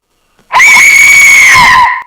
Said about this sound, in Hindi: This is the death whistle. ऐसा लगता है कोई चिल्ला रहा है